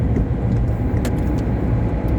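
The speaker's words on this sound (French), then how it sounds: "Je vais accélérer parce que j'ai des camions." A car accelerates along a road past trucks, giving a steady, loud rumble of engine and road noise with a brief whoosh in the middle and no voices.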